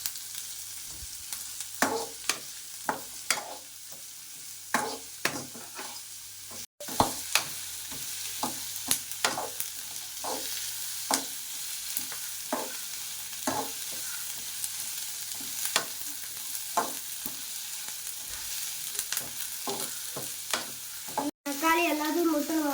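Food sautés in a hot pan with a constant close sizzle, punctuated by frequent scraping stirs of a spatula at an uneven rhythm, with no voices.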